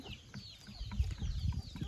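Swarnadhara country hens, naturally raised egg-layers, cluck softly in short, scattered bursts, with faint bird chirps in the background.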